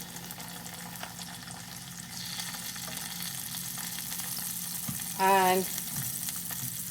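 Turmeric and onion masala frying in a pan for homestyle chole, a steady moderate sizzle running throughout with stirring scrapes, a brief louder burst near the end, and a voice speaking briefly.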